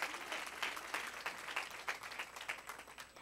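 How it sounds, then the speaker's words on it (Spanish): An audience at a women's church retreat applauds the Lord, a dense, fairly loud wash of clapping that holds steady for a few seconds with no voices over it. "¿Cuántos pueden darle un fuerte, pero muy fuerte aplauso al Señor por toda su obra maravillosa con nosotros?"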